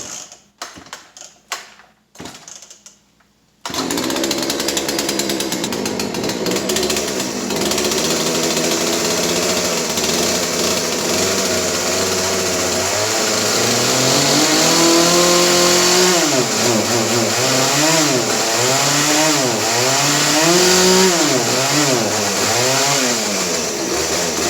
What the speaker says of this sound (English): we got the old Poulan Wild Thing 40cc 18-inch bar